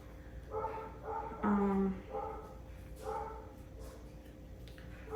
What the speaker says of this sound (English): That's their dog. That's my dog.